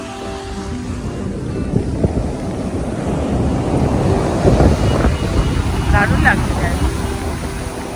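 Sea waves washing up on Digha beach, a broad rushing surf roar mixed with heavy wind buffeting the microphone, swelling toward the middle; a person speaks briefly over it.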